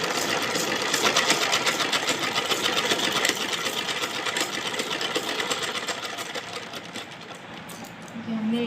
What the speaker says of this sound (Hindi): एक और सिलाई मार दीजिए जिससे ये पक्की हो जाएगी